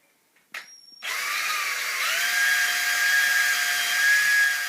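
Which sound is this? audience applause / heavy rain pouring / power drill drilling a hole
power drill drilling a hole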